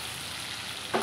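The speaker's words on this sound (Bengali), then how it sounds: "চিংড়ি মাছটাকে আমরা খুব কড়া কড়া ভাজা করব না, আধ ভাজা করে ভাজবো" Giant freshwater prawns sizzle as they are half-fried in oil in a pan, a steady close crackle that brightens briefly when stirred near the end.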